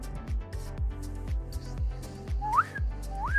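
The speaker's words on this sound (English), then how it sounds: "Wait, I gotta get my whistle away." A whistle is blown in two short rising tones, one after the other near the end, over a steady run of low rhythmic thumps.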